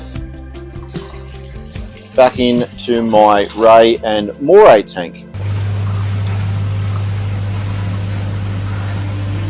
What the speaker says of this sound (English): right now we are pumping our natural salt water, 1000 litres of it